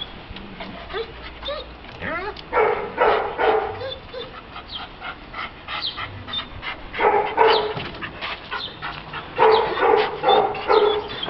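A dog barks in short repeated bursts and yips during bark training, with clusters of barks near the middle and end, and whimpers between them. Voices talk in the background.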